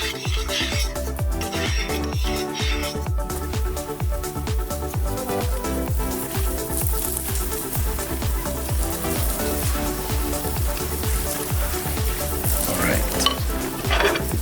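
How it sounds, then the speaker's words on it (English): Butter sizzles in a frying pan in an outdoor garden kitchen, a dense steady crackle running the whole time with rapid small pops, close and fairly loud. "it's time to cook it on the pan. So first thing, butter goes in."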